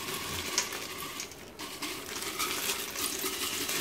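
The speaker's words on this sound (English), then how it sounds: "I'm going to just pour everything on in." Boiling water is poured into a jar of dehydrated chicken soup ingredients, giving a steady close splashing and trickling wash that runs continuously for several seconds with a brief dip partway through.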